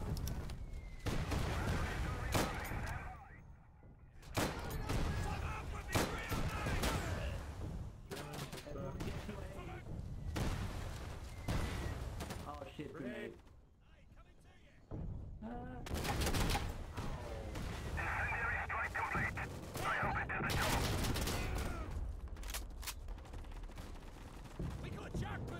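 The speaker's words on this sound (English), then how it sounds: "There's an MG that's kind of camping our spawn." Machine gun fire in the Battlefield 1 multiplayer match on a map camping a spawn area, dense bursts and rattling volleys repeating through the scene, loud and close, with voices talking over the shooting at times.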